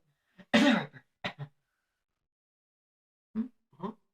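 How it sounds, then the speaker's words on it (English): A few short, sharp throat-clearing coughs in two clusters, close and fairly loud, separated by a stretch of silence. "I can only cough so clearly"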